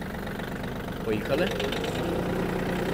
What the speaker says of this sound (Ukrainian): Трактор дуже швидко відгукується на педаль газу. Миттєво набирає свою максимальну швидкість.